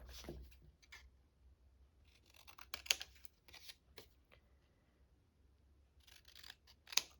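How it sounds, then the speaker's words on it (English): Scissors snip quietly as paper is trimmed top and bottom, a few sharp isolated cuts with soft handling rustles between them, close and faint with no talking. "We are going to trim the top and bottom, if I can find my scissors here."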